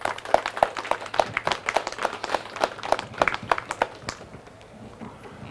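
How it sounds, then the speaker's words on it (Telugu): A gathering at a meditation event applauds for Brahmarshi Patriji, a sparse, uneven clatter of hands with distinct individual claps that thins out and stops after about four seconds. "బ్రహ్మర్షి పత్రిజీ గారికి మనము చక్కగా క్లాప్స్ కొట్టుకుందాం."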